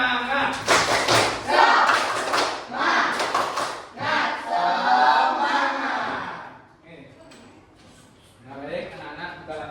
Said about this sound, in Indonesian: kalau semangat kita tepuk semangat